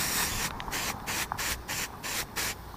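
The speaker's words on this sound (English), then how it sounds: "So I got the axe spray right here. Got my little brush hog dude, and we'll just douse it." Axe body spray from an aerosol can sprayed onto a soft plastic brush hog fishing lure outdoors, a series of about five short hissing bursts in an irregular rhythm, close and clear with no talking.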